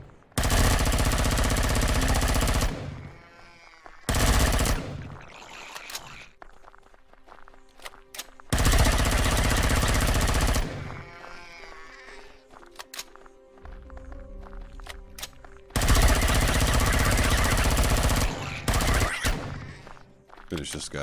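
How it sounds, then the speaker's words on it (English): Assault rifle gunfire in Empyrion: Galactic Survival comes in three long, loud sustained bursts of rapid shots, with quieter stretches of footsteps and game sounds between them and occasional talking. "I'll show you the assault rifle"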